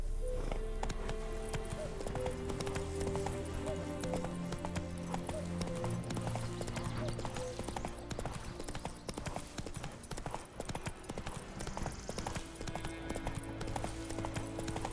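Horse hooves clip-clopping at a steady trotting rhythm in The Witcher 3: Wild Hunt, loud and continuous under a bed of game music and ambience, with an occasional whinny.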